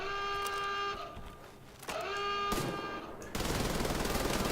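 A mounted machine gun turret fires in the video game Wolfenstein: The Old Blood. The loud, rapid bursts are broken by short pauses and rise to sustained fire near the end, with no talk.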